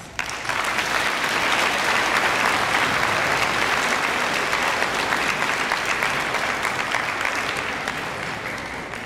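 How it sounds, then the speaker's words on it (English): Audience applause at a middle school Veterans' Day event, a sustained crowd of clapping hands starting abruptly, holding loud and steady for several seconds, then thinning slightly toward the end. "give them another round of applause"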